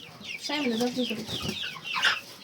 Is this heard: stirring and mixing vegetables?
no